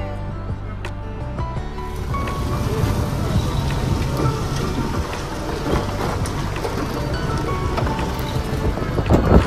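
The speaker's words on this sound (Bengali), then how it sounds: "কাঁচরাপাড়া স্টেশনে পৌঁছাতেই পেলাম একটা জোর বৃষ্টি" Heavy rain pours steadily throughout at Kanchrapara railway station, a dense hiss with scattered louder drops and a low rumble underneath, getting slightly louder toward the end.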